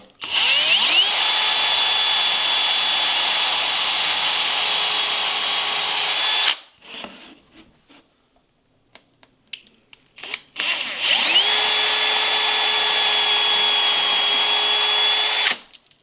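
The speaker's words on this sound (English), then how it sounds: "And then I carefully begin my pilot hole." A power drill boring a pilot hole in wood whines steadily for several seconds, stops for a few seconds of quiet handling, then runs again at the same high, even pitch.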